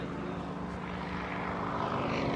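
A Yak 52 two-seat propeller aircraft performing aerobatics, a steady droning engine and propeller roar holding at a constant moderate level throughout, with no talk.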